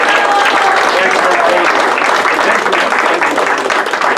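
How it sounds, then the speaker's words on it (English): An audience applauds after a magic act at a charity magic show, steady dense clapping that fills the room at full loudness throughout. "Let's have another round of applause for that."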